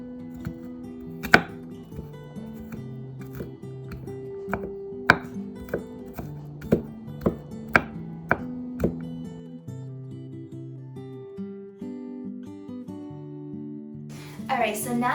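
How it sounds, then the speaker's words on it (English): Garlic being chopped with a knife on a board, a run of sharp, evenly spaced chops that stops partway, heard over soft background music in a home kitchen. "right now I'm just cutting garlic"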